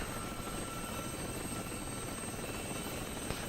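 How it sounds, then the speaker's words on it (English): A Mi-8 helicopter in a video game takes fire from ground forces, its rotor and engine making a steady dense drone that fills the whole stretch at an even level. "Mi-8 still standing after 2 Mistral hits on it. But the Mi-8 is unfortunately taking fire from ground forces."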